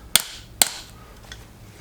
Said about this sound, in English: I'm going to give it a couple more little nice whacks.